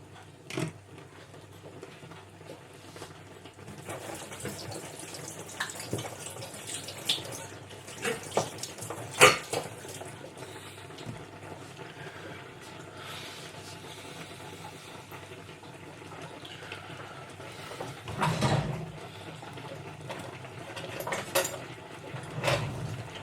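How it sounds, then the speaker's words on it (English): Rhubarb boils in a saucepan on the stove, giving a continuous bubbling, hissing simmer with scattered pops and light clinks close by. "Now we need to keep an eye on the fruit, because that's boiling away quite nicely now."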